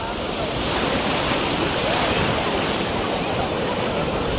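Sea waves roll and wash onto Diveagar beach on the Konkan coast, a constant loud surf roar mixed with gusty wind buffeting the microphone.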